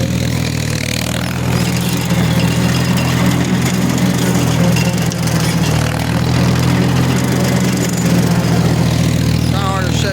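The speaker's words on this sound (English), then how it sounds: "So I'm back to mowing." Lawn mower cutting a field of about three acres, a loud, steady engine drone running continuously with slight variations in load, close to the microphone, with no talk over it.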